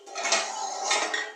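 Plates and cutlery clink and rattle close by in a home kitchen as a plate is taken, two bursts of clattering with no talk.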